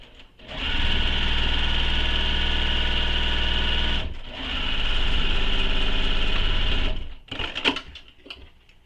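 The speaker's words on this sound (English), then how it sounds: "We're going to sew this with the seam allowance given in the pattern." A sewing machine stitches a backpack seam, running steadily and loudly up close for about three seconds, pausing briefly, then running again for another three seconds before stopping with a few faint clicks and handling sounds.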